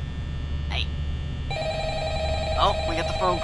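Telephone ringing in Five Nights at Freddy's 2, a sharp electronic ring that starts partway through over a low steady hum, with brief warbling tones near the end.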